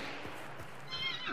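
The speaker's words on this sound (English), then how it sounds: "This horse is gonna make a noise" A horse in a video game match lets out a brief, close whinny that rises and wavers near the end, preceded by a few soft hoof clops, with no talk over it.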